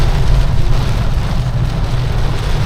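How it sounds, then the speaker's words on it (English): Loud, steady heavy rain in Grenada roars continuously, close by and dense, with no voices over it. "raining hard"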